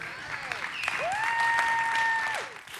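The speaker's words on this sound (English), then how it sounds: "Big round of applause, everyone." An audience at a live music session claps steadily, with a sustained sung or whistled tone and some feedback-like pitch sliding over the applause.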